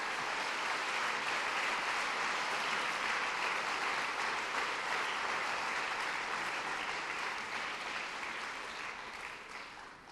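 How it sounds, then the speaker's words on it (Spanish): Sustained applause from a church congregation, a dense steady wash of many hands clapping throughout, tapering slightly toward the end. "Hermanos, den una ofrenda de palmas al Señor."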